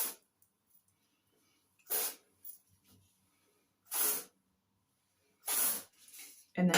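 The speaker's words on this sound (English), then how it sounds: "give it a little spritz underneath" Short bursts from a spray bottle misting underneath lifted hair, three distinct spritzes spaced a couple of seconds apart, close and fairly soft against a quiet room.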